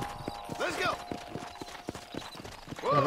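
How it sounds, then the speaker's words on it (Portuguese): Horse hooves in the Red Dead Redemption video game, a brisk clip-clop of hoofbeats at a steady trot, close and distinct, with talking over the top. "Vamos lá, pegar o nosso cavalo."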